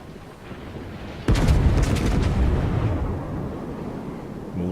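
Heavy naval gunfire from warships in World of Warships, including a Kongou battleship: a sudden loud booming salvo with rumbling that lingers and slowly fades, without speech.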